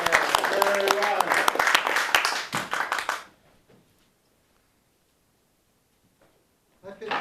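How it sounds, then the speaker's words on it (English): Magic club audience claps for a volunteer, a brisk burst of applause with some voices mixed in, cut off after about three seconds, then near silence before a brief sound returns at the end. "Let's give him a big round of applause."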